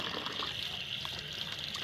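Water trickles and pours from a tank as an animal drinks, a soft, steady liquid flow heard close by without talk.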